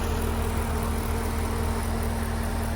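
A 2008 Chevrolet Corvette C6 with an LS3 V8 and 58,000 miles idles steadily and smoothly, a close, even low drone with no ticking or valve noise and no voices.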